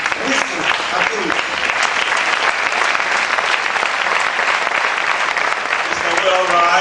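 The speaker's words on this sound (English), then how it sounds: "Let's keep clapping, please, for this great general, the teacher of teachers." Loud, sustained applause from a large audience honouring a guest lecturer, dense continuous clapping filling the whole stretch with a steady roar and scattered voices mixed in.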